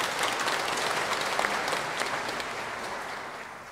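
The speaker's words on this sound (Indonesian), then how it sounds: "Kita beri tepuk tangan untuk beliau." A congregation at a Sunday Mass applauds steadily, a dense wash of many hands clapping that stays even and then fades slightly toward the end.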